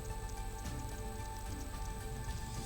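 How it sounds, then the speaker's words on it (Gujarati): Late-night rain in the Mangrol area of Junagadh, Gujarat, falls as a steady, even patter of drops on surfaces, constant throughout and moderately loud, with no voices. "માંગરોળ શહેર તેમજ આજુબાજુના ગ્રામ્ય પંથકમાં વરસાદની શરૂઆત થઈ છે।"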